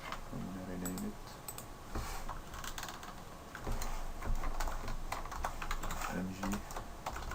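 Quick, steady computer keyboard typing as an object name is entered in RealFlow 3D software. The light clicks sit under a constant background hiss, and a few faint tonal sounds show up along with them.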